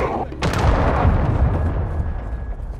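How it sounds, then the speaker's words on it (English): Heavy booming explosions from a cruise missile strike in Call of Duty: Warzone, one sharp blast followed by a dense, sustained rumble of overlapping detonations, loud and close. "Friendly cruise missile deployed."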